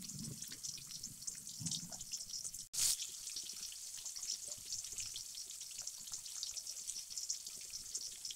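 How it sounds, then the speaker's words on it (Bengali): Pieces of rohu fish fry in hot mustard oil in a wok, giving a steady, fairly quiet crackling sizzle with one brief louder spatter partway through. "সর্ষের তেল গরম হলে মাছ ভেজে নেব।"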